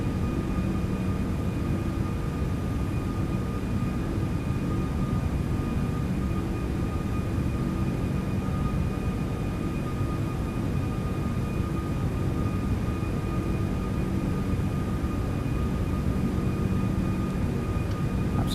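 Airbus A340-600 jet engines in X-Plane 12, a steady, loud cabin roar with thin high tones laid over it, unbroken for the whole stretch and with no voices.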